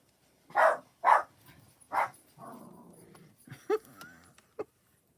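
A dog indoors gives three sharp barks, then a drawn-out whine and a few more scattered barks, heard a little way off in a quiet house.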